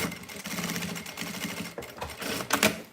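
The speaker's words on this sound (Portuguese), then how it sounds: "Deixa eu ver se eu passar mais uma costura aqui vai dar certo." A sewing machine stitches a seam on a small fabric flower-style pouch, its fast, steady mechanical rattle running throughout at moderate loudness, with a brief pause and a sharper burst near the end.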